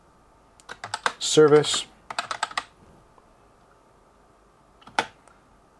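Computer keyboard typing a PowerShell command, a quick flurry of crisp key clicks with a few louder taps, then a single isolated keystroke after a pause, alongside brief speech.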